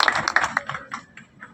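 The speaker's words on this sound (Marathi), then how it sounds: "आपण सर्व गावाच्या वतीनं टाळ्या वाजून दादांचं अभिनंदन" Villagers clap together in a short burst of sharp, close handclaps that quickly thin out and fade to a few scattered claps within a second or so.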